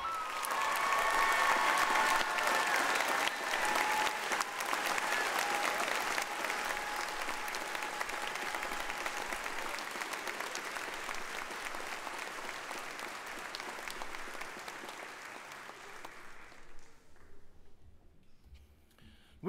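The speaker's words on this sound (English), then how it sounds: "Let's give them a round of applause and thank them for their outstanding efforts." Sustained applause from a large college graduation audience, steady and dense, gradually thinning and fading out near the end.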